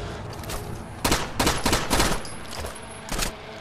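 Glock pistol fire in Rainbow Six: Vegas 2, a string of sharp, loud cracks in quick irregular bursts, about eight shots spread over a few seconds against quiet game ambience, with no talking.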